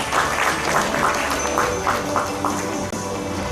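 Audience applause at a school-meals climate conference, steady clapping from a seated crowd that carries evenly through and thins slightly near the end.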